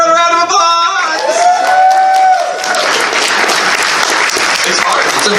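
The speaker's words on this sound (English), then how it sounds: "Give everyone a round of applause!" Audience applause at an improv comedy show, dense clapping rising to a loud, steady wash after a held musical tone fades, continuing to the end.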